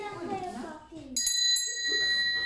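A small bell rings with bright, sustained metallic tones right after someone speaks, its ringing lingering at a close, clear level at a kindergarten Santa Claus celebration.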